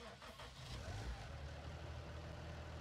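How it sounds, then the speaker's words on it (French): Tractor engine in the video game Farming Simulator 19, a steady mid-pitched drone that rises slightly as it revs, loud and continuous with no talk over it. "Je vais aller chercher le tracteur."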